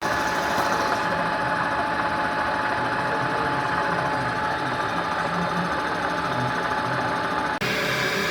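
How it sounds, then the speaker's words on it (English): A milling machine cuts a Harley-Davidson rear end part with 2mm roughing cuts at raised speed, giving a steady, loud, continuous machining whine and vibration that stops abruptly near the end. "So I've increased the speed somewhat and increased the depth of cut. We're doing 2mm cuts"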